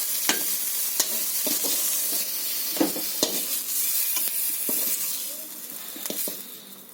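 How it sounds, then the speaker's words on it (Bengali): Eggplant fries in hot oil, giving a steady close sizzle broken by repeated scraping and tapping clicks of stirring, easing slightly toward the end. "তো বন্ধুরা আমার বেগুনটা ভাজা হয়ে গেছে"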